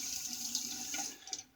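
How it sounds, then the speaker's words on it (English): A folding razor blade is shaken to throw off water, giving a steady, close, hissing splash of water throughout that eases off near the end, with no talking. "So you can hear that when I'm shaking the water off."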